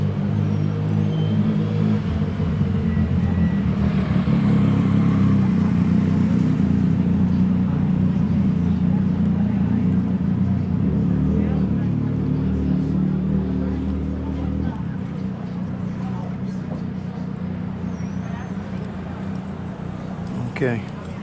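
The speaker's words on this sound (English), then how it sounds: "Here comes a motorcycle." A motorcycle passes by an outdoor market, a steady low rumble that swells and fades over about fifteen seconds beneath a continuous background of ambient noise.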